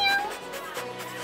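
A kitten or cat gives a single close, clear meow that rises and then falls, with some background noise behind it.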